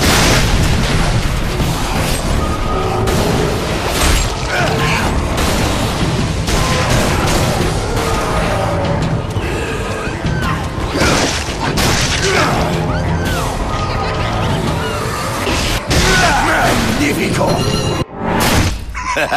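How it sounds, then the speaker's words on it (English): Pressurized barrels filled with light blow apart in Shadows of the Damned, loud booming blasts and crashing shatters going off repeatedly over a busy game soundscape, with someone talking between explosions. "Like I said, exploding barrels."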